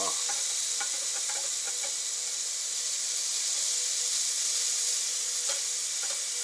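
Liver and garlic chives stir-frying in a pan while camping in a car on a fishing trip, a steady close sizzle and hiss with scattered light scrapes and taps of stirring throughout, no talking.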